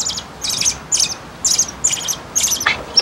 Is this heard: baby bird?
yes